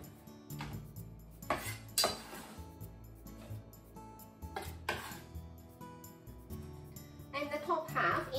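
Ingredients for meatball miso butter soup drop into a pot with clanks and clinks of metal cookware and utensils, several distinct knocks over a quiet kitchen background, with a person talking nearby.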